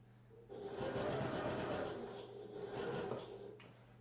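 A sewing machine runs in a short burst while stitching a duffel backpack, a quiet, close mechanical whir lasting about three seconds before stopping, with no talking.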